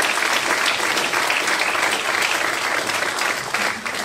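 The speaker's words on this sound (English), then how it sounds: "let's give these young people a good round of applause for getting their cord" Sustained clapping fills a school senior awards ceremony hall: a dense, even wash of audience applause that holds steady throughout and tapers slightly near the end.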